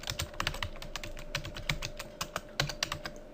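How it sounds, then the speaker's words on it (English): Fingers tap out a web address on a computer keyboard, a quick irregular run of close, crisp clicks with short pauses between bursts of keystrokes. "we can simply type"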